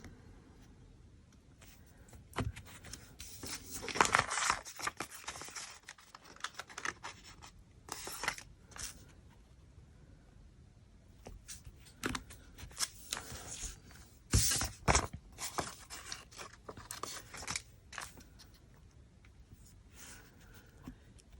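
Script stickers being peeled and pressed onto a Hobonichi planner, with soft irregular scratching, rustling and tapping at close range over several seconds, some busier stretches and a few quiet pauses.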